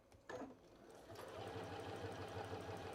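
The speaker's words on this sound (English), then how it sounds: "Keep sewing." A sewing machine runs steadily as it stitches a needle book, a continuous close mechanical whir with a quick rhythmic needle pulse after a brief start, with no talking.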